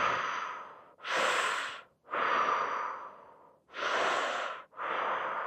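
Slow, deliberate breaths in through the mouth and out during a fascial stretching class, five long airy strokes alternating inhale and exhale, close and clear with short pauses between.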